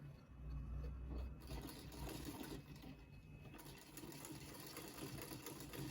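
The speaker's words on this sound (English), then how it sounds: "I'll take my crinoline again. I'll sew it down." A sewing machine runs steadily, stitching a crinoline down onto a bustier gown, its busy mechanical whir continuous and close throughout, with a low hum underneath.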